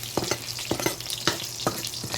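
Pork adobong humba with ginger frying in a pan, a steady close sizzle broken by several sharp spatters and stirring scrapes, with no talking.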